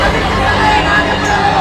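A crowd celebrates at Matoshree after a Mumbai University senate election win, a loud dense wash of voices and shouting that fills the entire moment without any clear single chant standing out.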